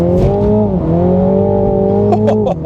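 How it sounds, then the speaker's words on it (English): A 2021 MINI John Cooper Works spinning its wheels under hard acceleration: a loud, steady engine drone with a brief dip in revs, then sharp tire chirps toward the end. "That was like literally wheel spinning."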